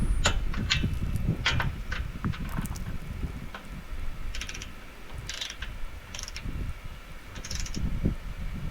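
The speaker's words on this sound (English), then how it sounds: "using, of course, a torque wrench set to the proper foot-pounds. And of course you got to torque both of them up on each connector." A torque wrench ratchets and clicks repeatedly while tightening connectors during a solar panel installation. The irregular clicks are fairly close, over a steady outdoor rumble of wind.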